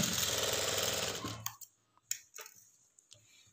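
A tailoring sewing machine stitching a lining blouse runs in a fast, even mechanical rattle for over a second, then stops, leaving a few scattered clicks and handling taps, close and clear.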